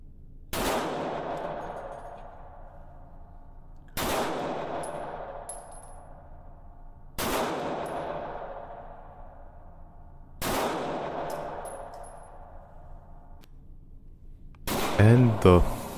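Four loud, sharp Glock 45 pistol shots crack at a shooting range, spaced roughly three seconds apart, each with a long echoing ring-out, followed by a brief burst of noise at the end.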